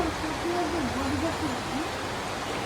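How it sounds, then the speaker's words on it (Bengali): Steady, dense hiss of rain falling, constant throughout, with a faint voice murmuring low beneath the wash of noise. "সকাল থেকে মেঘলা, আল্লাহর রহমতে এখন বৃষ্টি আসলো"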